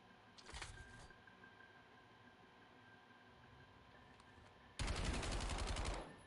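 An automatic gun fires in a video game, with a short rapid burst near the start and then a longer, very fast, loud stream of shots near the end over a quiet background.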